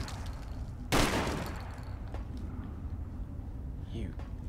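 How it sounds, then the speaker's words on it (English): A single sharp, loud blast from a shotgun in Fallout: New Vegas, followed by a decaying tail over a steady low in-game ambience. "Use your own really terrible shotgun."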